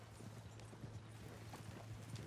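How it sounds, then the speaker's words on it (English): Horse hooves clip-clopping in the Red Dead Redemption video game, faint and steady at a walking rhythm over a constant low hum. "Oh, my horse is following me"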